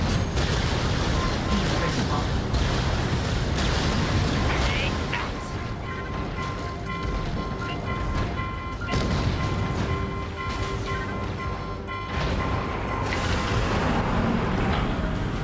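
Mech cannon firing in the VR video game Vox Machinae: heavy booms and blasts over a constant battle rumble, with a voice talking throughout.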